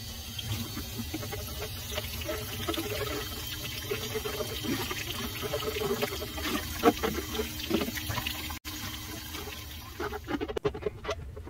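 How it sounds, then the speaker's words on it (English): Water runs from a tap into a glass nut jar being washed out with Dawn dish detergent, a steady close splashing patter that holds throughout, with a few brief clatters near the end. "I'm going to clean it out thoroughly with some Dawn dish detergent"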